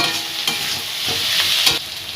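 Onion, garlic, tomato and green chili fry in a pan with cashews and melon seeds, a loud continuous sizzle broken by a few scraping stirs of a spoon, close up and without talk.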